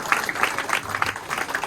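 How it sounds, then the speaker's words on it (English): A small audience at a rugby club gives a short round of applause for the team captain after a match, a few uneven clusters of claps heard up close. "Let's have a round of applause."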